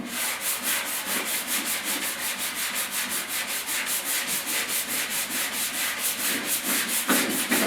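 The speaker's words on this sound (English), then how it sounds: "it sands off quite quickly" Filler being sanded by hand on a 1956 Mercury front fender: steady, rhythmic back-and-forth rasping strokes, close and even, continuing without pause and with no talking.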